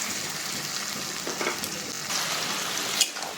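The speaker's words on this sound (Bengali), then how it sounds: "দেখো কষাচ্ছি" A pan of mustard and poppy seed paste sautéing for Bengali dudh shukto, giving a steady close sizzle with a few soft scrapes of stirring and one brief louder clink near the end.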